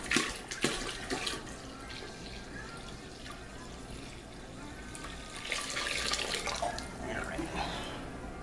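Water splashes and trickles steadily onto crushed grain for a 2.5-gallon no-sparge light beer mash, close and moderately loud, with brief louder gushes.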